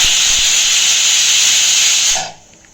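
A pressure cooker whistle lets off a loud, continuous hiss of steam, close by, then cuts off abruptly near the end.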